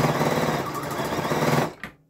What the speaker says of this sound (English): and then I'll start sewing.